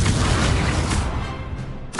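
The Confringo fire-blast spell erupts in the video game Hogwarts Legacy. A loud, booming crash of an explosion fills the moment, tails off, then a second burst hits right at the end.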